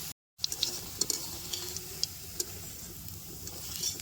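Soybean pakoras fry in a little hot oil with a steady crackling sizzle, punctuated by light periodic taps of a utensil against the pan.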